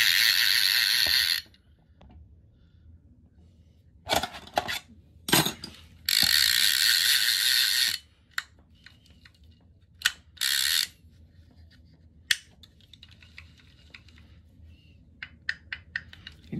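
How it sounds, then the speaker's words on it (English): The clicker on a Penn Peer 209 fishing reel ratchets in sharp rapid bursts of clicking, several loud runs separated by quiet gaps and a few isolated ticks; no talking. "Let's turn our clicker on."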